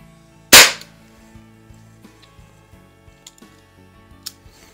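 A Crosman 600 .22 caliber CO2 pellet repeater fires a single sharp, loud crack, followed by faint clicks and small mechanical ticks as it is handled.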